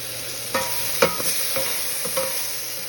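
Garlic sizzles in a hot pan under a steady fry hiss, with a few distinct scrapes and clinks as the back of a spoon stirs it, close and clear with no talking.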